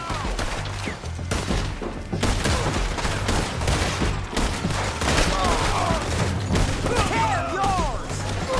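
Red Dead Redemption 2 shootout with a dense, steady barrage of gunfire, close and loud, overlapping with crashes and thuds while voices shout through the fight.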